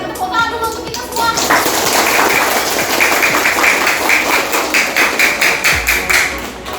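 Elementary school pupils in a classroom applaud together, a dense burst of clapping that starts after a brief moment and carries on steadily, loud and close, with children's voices mixed in.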